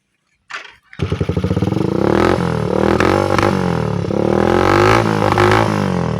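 A motorcycle engine with a fiber mat packed into its muffler starts after a brief crank and settles into a loud, steady, throbbing idle close by.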